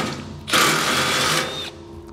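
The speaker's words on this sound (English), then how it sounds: "I'm just going to slightly open up this hole a little bit more in order to get our last bolt in." A power drill with a half-inch bit enlarges a bolt hole on a fold-away trailer coupler hinge, running as a steady loud whine for about a second between quieter stretches.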